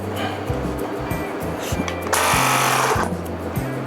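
A small Xiaomi portable electric air compressor runs loudly with a rapid mechanical chugging pulse while inflating a tire, its hiss briefly swelling louder midway.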